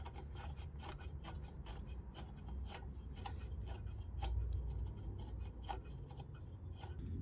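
Bosch spark plug being tightened with a ratchet on a Kaaz lawn mower during servicing, giving a steady close rasping, rubbing metal sound with repeated clicks across the whole stretch, no voices.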